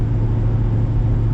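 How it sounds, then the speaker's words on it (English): Inside a fifth-generation Chevrolet Camaro SS cruising at 70 mph, a steady low engine and road drone hums close and even, with no talking. "I'm cruising right now at 70 miles an hour."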